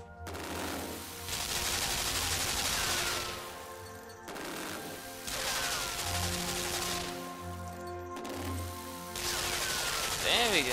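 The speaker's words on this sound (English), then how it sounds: "I need to get the gun to shoot itself." Gunfire in the side-scrolling video game Limbo, three sustained bursts of rapid shots a few seconds apart, fairly loud against a backdrop of game ambience and music.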